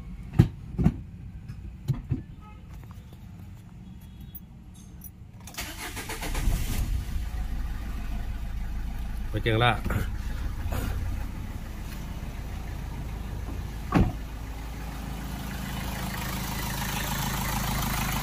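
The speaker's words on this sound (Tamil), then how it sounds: "இப்போ நம்ம ஸ்டார்ட் பண்ணி பார்ப்போம். ஸ்டார்ட் பண்ணால் சவுண்ட் அரசாக செக் பண்ணிக்கலாம்." A Renault Scala / Nissan Sunny car engine, after injector coding, cranks and catches following a few quiet clicks, then settles into a steady, loud idle that runs to the end, with a brief spoken word near the start.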